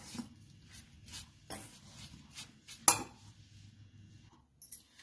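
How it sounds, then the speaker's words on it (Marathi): Spoon stirring a vegetable mix tikki mixture in a bowl, with scattered scraping and clinking strokes at an uneven pace and one sharper clink midway, close and fairly quiet. "आता हे मिश्रण चांगलं हलवायचं"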